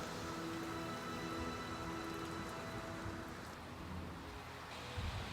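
Dense, steady rain hisses continuously over a police horse training demonstration, with a low rumble underneath, unbroken throughout and with no talking.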